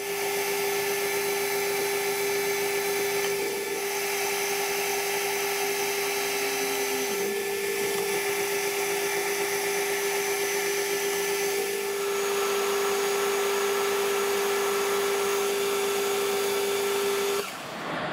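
A metal lathe steadily turns a shank down to 12 millimetres, its motor holding a loud, constant whine with a few brief dips as the cut engages, running alone until it winds down at the very end.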